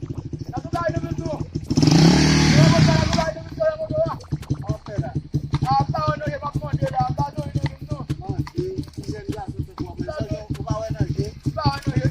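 A motorcycle passes in a street, its engine rising briefly into a loud, close rev and then fading into the background while people talk nearby throughout.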